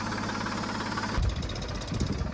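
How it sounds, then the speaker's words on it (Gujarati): A tractor engine runs with a low, throbbing idle rumble that shifts and roughens partway through, steady and fairly close, with no voices. "આપણે ટ્રેક્ટર લગાવી દઈએ"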